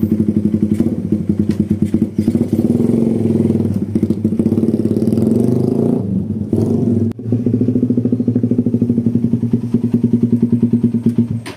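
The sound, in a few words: motorcycle test drive after camshaft repair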